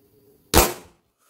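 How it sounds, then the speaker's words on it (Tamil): A balloon bursts in a petrol versus balloon experiment, giving a single sharp loud pop followed by a short fading noisy tail, close and alone after near silence. "2 பலூன் நீங்கள் வெடிச்சது அப்படியே லைவாக பார்த்தீங்க"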